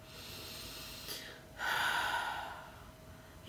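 Deep, slow breathing during a relaxation exercise, a soft inhale followed by a longer, louder exhale, faint and close over a quiet background.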